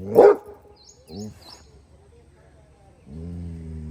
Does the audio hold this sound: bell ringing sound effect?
no